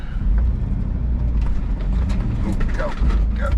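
Truck engine labouring as it pulls out of a driveway, a loud, low, steady rumble with faint knocks and scrapes, and short voice sounds near the end.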